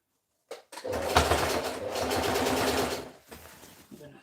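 A sewing machine runs in a steady whirring burst for about two and a half seconds while stitching fabric, close and fairly loud, followed by a few softer handling sounds.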